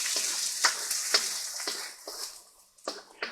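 Aromatics sizzle in hot oil for homemade chili oil, a soft crackling fry broken by several stirring scrapes at a regular pace, close and fairly quiet.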